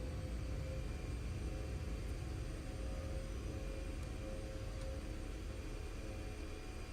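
Steady roaring rumble of a DHC-6 Twin Otter 300's turboprop engines in reverse thrust while braking on the runway after a firm landing in X-Plane 11, a continuous broadband drone with no voices.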